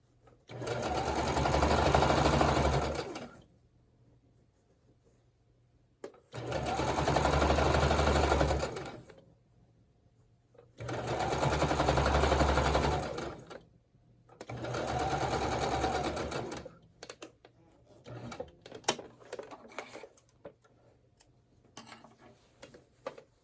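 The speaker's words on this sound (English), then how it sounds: "And then I just sew straight seam all the way down." A sewing machine stitches a straight seam in four steady bursts of rapid mechanical whirring, each a few seconds long with short pauses between, followed by lighter clicks and handling of the fabric.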